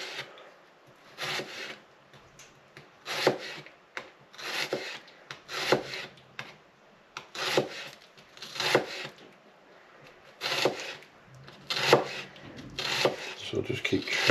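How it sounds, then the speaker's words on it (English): A knife chops thinly sliced onion on a cutting board in quick bursts of crisp strokes, close and loud, repeating in clusters with short pauses between. "So just keep chopping away."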